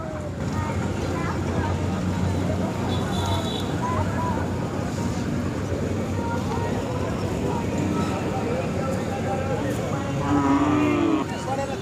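Busy outdoor Khillar cattle market with a steady crowd din and people talking; a Khillar cow moos loudly near the end.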